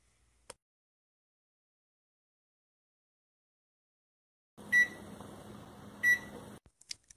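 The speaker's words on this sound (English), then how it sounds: "I'm gonna microwave some mac and cheese." After a long silence, a microwave oven heating mac and cheese hums for a couple of seconds, two sharp beeps ring over it, and it clicks off.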